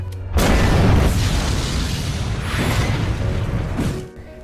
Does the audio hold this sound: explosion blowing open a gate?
yes